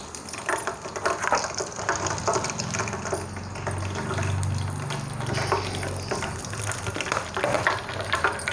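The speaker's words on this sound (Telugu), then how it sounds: "జీలకర్ర వేస్తాను. ఆయిల్ వేడి అయింది." Cumin seeds crackling and sizzling in hot oil for a lemon pickle, a close, uneven spatter of pops and hiss lasting several seconds, with no talking.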